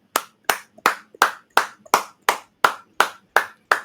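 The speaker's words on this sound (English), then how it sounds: "I just wanted to stand up and clap for them" Steady applause from a single person standing, about eleven sharp claps at an even pace of roughly three per second, close and distinct with short decays and no voices.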